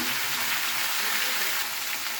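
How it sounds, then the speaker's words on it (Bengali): Potato and cauliflower frying with onion in a pan, giving off a dense, steady, close sizzle that fills the whole moment with no talking. "ফুলকপি আর আলু দুটোই একসাথে আমি লাল করব পেঁয়াজের সাথে। এইভাবে নাড়িয়ে নিচ্ছি।"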